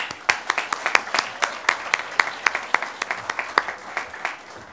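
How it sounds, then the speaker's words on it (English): Audience applause at a county government employee recognition awards ceremony, steady clapping from a crowd with sharp individual claps standing out, fairly close and loud throughout. "So give yourself a round of applause."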